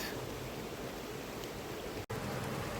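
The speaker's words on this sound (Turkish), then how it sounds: "Evet, şırıl şırıl su akıyor." Stream water runs into a lake at the Seven Lakes nature park in Bolu, a steady broadband rushing and babbling flow, continuous and close, with a brief dropout near the end and no voices.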